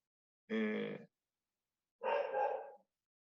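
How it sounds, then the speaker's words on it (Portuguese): A dog gives two short, fairly close barks about a second apart, with silence around them and no talking. "mas o cachorro latiu aqui, acabei me atrapalhando um pouco"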